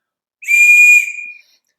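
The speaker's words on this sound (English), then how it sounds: "when the engine is on its compression stroke, it will whistle very strongly like that" A strong, steady high-pitched whistle from an engine cylinder on its compression stroke, on a 1953 Packard engine, rises abruptly, holds for about a second, then fades out, with silence before and after.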